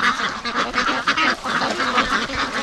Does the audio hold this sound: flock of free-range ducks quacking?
yes